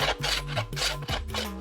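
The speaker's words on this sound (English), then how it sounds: "and filing it down." Hand filing on seasoned wood for a tanpura, a close rasping scrape repeated in several strokes, with steady tonal music running underneath.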